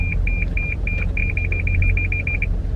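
Car parking sensor beeping in a steady electronic pattern, spaced beeps speeding into a rapid run, over a low engine and road rumble inside the vehicle.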